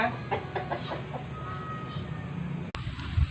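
Hens cluck in short, repeated bursts over a busy low rumble of farmyard background, with a sharp knock near the end.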